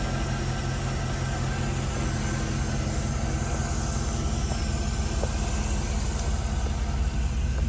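A 2013 Mercedes G550 idles after a cold start, giving a steady, continuous engine drone with a low rumble that holds constant throughout, without any talk.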